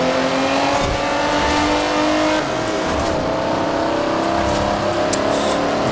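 A heavy, lumbering race car in Forza Horizon 4 drones steadily at speed, a continuous engine roar with a faint knock near the end.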